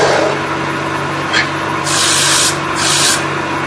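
A hand carving tool rubs and scrapes against wood while hollowing a dome shape, producing short close scratchy bursts over a steady background hum.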